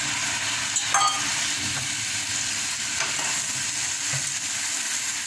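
Lentil dumplings (bori) sizzle steadily in a hot oiled pan with sugar and spices, a continuous close frying hiss with a few soft stirring scrapes.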